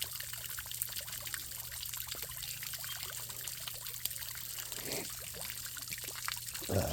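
Water trickles from a submerged garden hose in a backyard, a steady soft running flow with faint splashes throughout, close by and alone with no talk.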